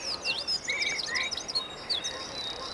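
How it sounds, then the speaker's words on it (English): Clear, rapid blackbird song of fluttering whistled phrases and chirps, moderately close, repeating in short bursts over a quiet background. "Blackbird is coming."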